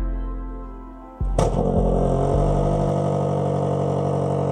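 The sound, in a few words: Range Rover Sport SV 4.4L V8 engine idling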